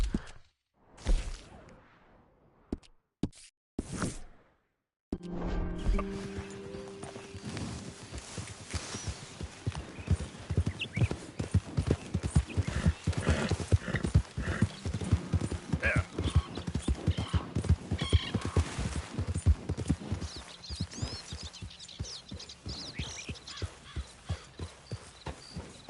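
Horse hooves clip-clop in a steady, rhythmic gallop within a PS4 video game, loud and continuous after a few brief opening thumps, with an occasional neigh mixed in.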